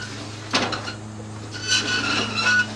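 A Himalayan salt block scrapes across a metal grill in two short grinding drags, separated by a pause, over a steady low hum.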